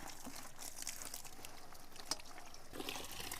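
Water runs and splashes faintly into a bucket for washing leaves outdoors, a soft continuous trickle with a few small splashes, quiet and without talking.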